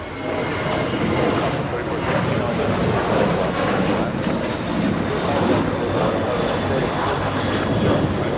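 Boeing 737 airliner engines at LAX (Los Angeles International Airport) give a steady, broadband roar that stays loud and even throughout, with faint voices underneath.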